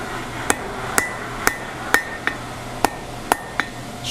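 A hammer strikes hot steel on an anvil while a hook is forged, eight sharp ringing blows at a steady, roughly half-second pace, close and clear with no talking.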